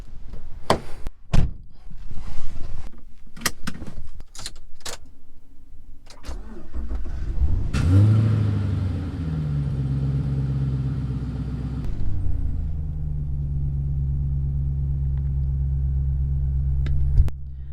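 A few clicks and thunks, then a Chevrolet Caprice PPV engine cranks and catches, settling into a steady low idle and rumbling drive nearby.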